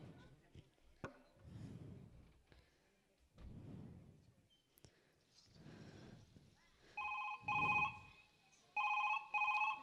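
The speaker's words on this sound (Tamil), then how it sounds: "மாமாக்கே ஃபோன் பண்ணி கேட்டுருவோம்." A telephone ringing tone sounds in short repeated bursts near the end, a steady electronic ring heard over a phone line after talk and background noise.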